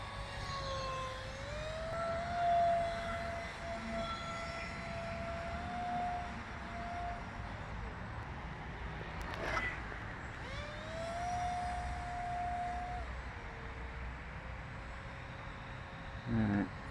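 A model aircraft called Ruthless flying a slow circuit against autumn trees, a steady droning engine with a whining tone that rises and falls as it passes, moderately close throughout with no talking.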